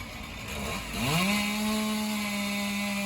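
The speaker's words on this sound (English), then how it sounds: "the Stihl chainsaw that the guy is using here is the Stihl MS461 with a 25-inch bar" A Stihl MS461 chainsaw with a 25-inch bar felling a palm tree roars up from a lower note and holds a loud, steady high-revving whine as it cuts.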